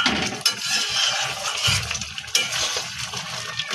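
Shrimp bhuna stirred in a pan after adding garam masala powder, soft scraping and sizzling with irregular clinks of the spatula against the pan, close and steady.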